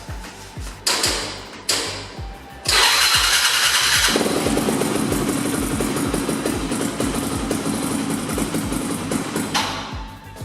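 A dirt bike engine cranks with a few short attempts, then catches and revs loudly before settling into a steady, close idle that runs to the end.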